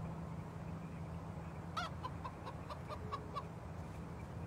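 A chicken clucks in a short run of quick, faint calls in the Minecraft: Story Mode video game, heard alone over a low steady background hum.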